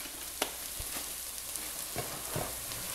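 Food sizzles quietly in a pan, a soft continuous crackle broken by a few scraping stirs and light clicks, as garlic and Italian seasoning sauté for a vegetarian goulash.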